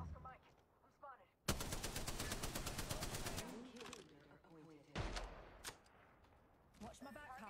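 Video game shooter gunfire: a long rapid burst of automatic fire, then a couple of shorter bursts and single shots, loud and close, with voices in between.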